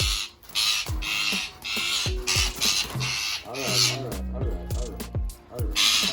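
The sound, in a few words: Indian ring-necked parrot calling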